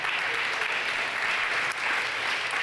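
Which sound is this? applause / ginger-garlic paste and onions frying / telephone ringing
applause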